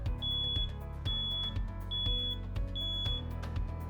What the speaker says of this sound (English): Now that the backup alarm system is installed, test the backup alarm.